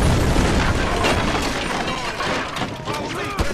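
Loud, sustained cannon blasts and explosive rumble in the GTA V action game, a dense roaring wall of booms and crackling debris filling the whole stretch without pause.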